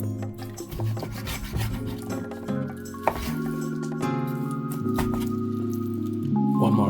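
A knife chops sausage into small cubes on a board for gumbo, giving a steady run of scraping, knocking cuts with a sharp clack near the middle, close and fairly loud with no talking.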